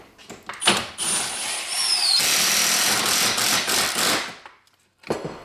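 A power drill drives screws into timber while building ant-proof cappings for beehives, a loud sustained grinding whir with short bursts and clunks before and after, ending in a brief pause and another burst.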